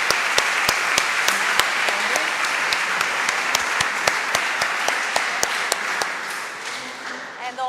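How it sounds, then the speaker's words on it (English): Applause from an audience at an international radiocarbon science conference, with distinct individual claps that stand out through a continuous clapping texture. It thins out toward the end as a voice begins to speak. "let's have a chance to applaud once more to the..."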